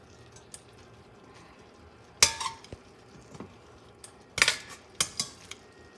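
Pasta for paglia e fieno going into a pot, heard as a few sharp metallic clinks and clatters against the pan, spaced by quiet stretches, with no one talking.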